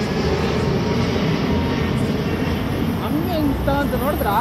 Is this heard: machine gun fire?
no